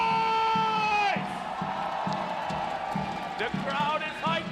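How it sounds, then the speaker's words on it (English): Arena crowd at the Mobile Legends M5 World Championship roars and cheers continuously, loud and sustained, with a tonal swell at the start and a caster's voice over the top. "The crowd is hyped up."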